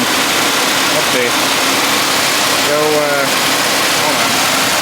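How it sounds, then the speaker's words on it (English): A car engine idles steadily with an exhaust leak, a continuous low rumble with a hissy, noisy texture, while a voice speaks briefly over it. "Exhaust leak is somewhere nearby."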